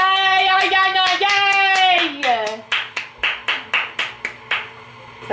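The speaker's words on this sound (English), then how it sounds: "That was like pathetic clap" After a stretch of playful singing voices, hands clap about nine times in a steady, evenly spaced rhythm, close and fairly sharp, in a home kitchen during cookie baking.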